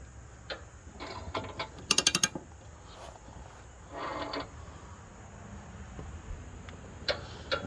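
A ratchet clicks in short bursts while tightening the mower blade bolt on a John Deere 1025R mowing deck, with one sharp run of rapid pawl clicks in the middle and scattered metallic knocks around it, close and fairly quiet.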